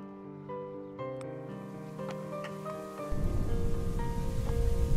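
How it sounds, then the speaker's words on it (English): Rain begins falling in the video game Rise to Ruins, a dense pattering hiss that swells in over a musical backdrop partway through and then continues steadily. "Ooh, it's raining."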